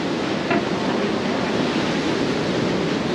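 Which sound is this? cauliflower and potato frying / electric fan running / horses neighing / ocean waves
ocean waves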